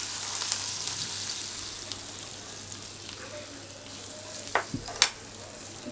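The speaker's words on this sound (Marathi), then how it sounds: "सगळं व्यवस्थित मिक्स करून घेऊया।" Tempered dahi poha is stirred in a pan, giving a soft sizzling hiss with light scraping, then a couple of sharp spoon knocks near the end. No one speaks.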